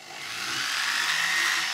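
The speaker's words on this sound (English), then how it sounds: "now I'm going to polish the inside up using my pendant drill" A pendant drill polishes the inside of a silver or gold ring, giving a steady, close high-pitched whir that holds even for the whole short stretch.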